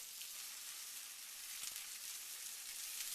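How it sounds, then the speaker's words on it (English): Food sizzles steadily in a hot frying pan for a heavy breakfast, a constant close crackling hiss with no talk over it. "I like to fry these until they're rather not black"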